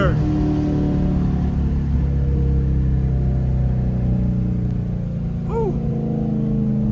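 A Dodge Challenger R/T with a Hemi V8 idles and revs in a steady, loud, low rumble close by, while a man exclaims briefly over it.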